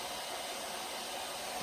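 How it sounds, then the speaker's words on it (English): A hair dryer blows steadily on a beard, a constant close airy roar with no breaks from start to finish. "I'm gonna go straight on the hair with the hair dryer"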